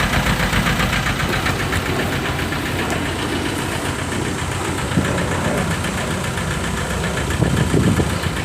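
A VW TDI diesel engine with a stuck piston ring and heavy blow-by runs steadily with a misfire, giving a loud, rough, continuous knocking idle close by with no talking.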